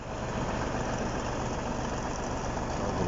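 A T-150 tractor engine idles steadily in a muddy forest, a loud, continuous low rumble with no voices.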